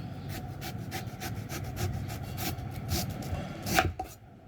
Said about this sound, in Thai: เราก็จะหั่นออกมาแบบนี้ก่อน